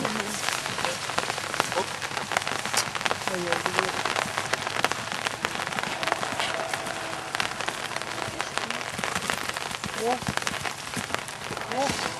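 Rain falls steadily on a surface at a motocross track at Niitvälja. A dense, even patter of drops continues throughout, with faint voices in the background.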